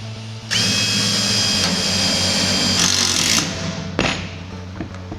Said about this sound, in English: I will then complete this by adding the remaining 4 self-tapped screws that need to go to the wall.